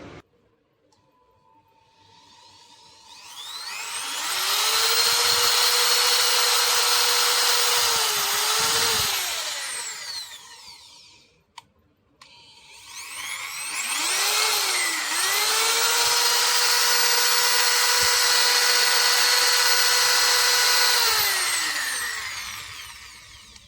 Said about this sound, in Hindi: और अब ड्रिल मशीन को ऑन करके देखेंगे क्या फील्ड कॉइल से काम चल जाएगा